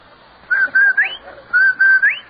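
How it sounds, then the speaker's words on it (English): Rinso White whistle from an old radio advertisement, a two-note whistled call with a rising upward flourish, heard twice in a row, clear and alone. "That whistle. That's the Rinso White whistle."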